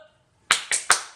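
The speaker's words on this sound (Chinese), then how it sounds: "好，来，原住民的掌声" A class doing Indigenous Amis-style rhythmic applause: three quick, sharp claps in a tight pattern after a brief quiet moment, close and crisp.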